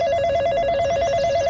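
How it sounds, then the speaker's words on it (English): A phone rings in the video game Farming Simulator 19: a steady electronic ringtone with a fast warbling pulse, loud and clear and alone, with no talking. "Ah, my phone's ringing."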